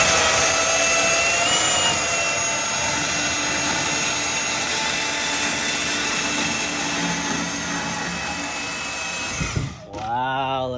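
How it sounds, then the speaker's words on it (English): A bandsaw cuts through Centrotherm plastic pipe with a loud, steady whine and rasp that runs for about nine seconds, then stops abruptly as the blade clears the cut. "We got Bandsaw Man over here, take one, cutting Centrotherm."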